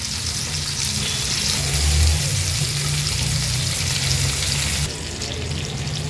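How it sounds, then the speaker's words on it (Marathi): Mackerel fries in hot oil in a pan for a crispy Agri Koli-style fry, making a loud, continuous sizzle with a dense crackling hiss that holds steady throughout. "उरलेले दोन बांगडे पण असेच फ्राय करून घेणार आहे"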